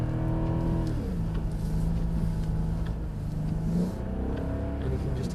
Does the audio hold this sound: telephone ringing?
no